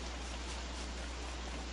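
Steady rain falling in the video game Don't Starve, a soft, even hiss of constant drops with no breaks, faint and distant, no talk.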